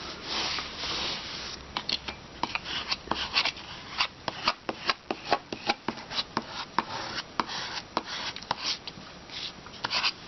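Scissors or a blade cutting material in quick, repeated crisp snips with short rustles between them, close and steady, with no talking.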